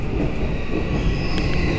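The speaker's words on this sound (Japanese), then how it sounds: "列車は天王寺に到着です。" An Osaka Loop Line train pulling into Tennoji station, with a steady loud rumble of wheels on rails, faint metallic squeals and a tonal whine from the carriage running throughout.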